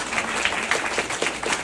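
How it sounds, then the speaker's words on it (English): Members at a club meeting give a short round of applause for a newly elected vice president, a brief patter of clapping from a modest group nearby. "So we can give you a little applause."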